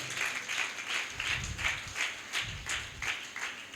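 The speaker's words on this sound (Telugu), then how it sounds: "చప్పట్లు కొట్టి దేవుని నామాన్ని కనపరుద్దాం." Congregation clapping in steady rhythm during a church worship sermon, many hands striking together in even, repeated bursts about twice a second, fairly close and continuous without talk.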